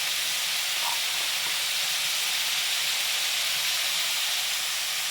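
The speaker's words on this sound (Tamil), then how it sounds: "இவங்களை கொஞ்சம் வதக்கி கொடுப்போம். வெங்காயம் கொஞ்சம் வதங்கட்டும்." Onions sauté in a pan while egg pasta is being cooked. A loud, steady, close hiss of frying carries on without a break, and no one speaks.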